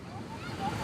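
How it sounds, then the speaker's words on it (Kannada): Strong wind gusting at Malpe Beach in Udupi in the evening, a loud rushing roar buffeting the microphone, mixed with the wash of the sea. "ಗಾಳಿ ಜೋರಾಗಿ ಹೊಡಿತೈತಲ್ಲಮ್ಮ"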